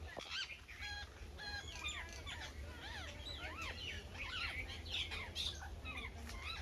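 Birds, including parrots, koels and mynas, call from mango trees in a village near the Gujarat coast, a faint, busy stream of overlapping squawks and chirps repeating throughout over a low background hum.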